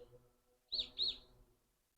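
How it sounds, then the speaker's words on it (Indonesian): Crows call outdoors in Japan, two brief calls in quick succession against a quiet background. "Gagak guys tuh tingali."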